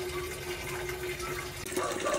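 Water is poured into a container holding tilapia fingerlings, making a steady, full rushing and splashing that runs without a break and grows a little stronger near the end.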